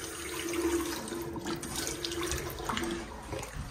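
Water running steadily from a new sink tap in a bathroom, a close, continuous splashing hiss with a faint whistling tone throughout.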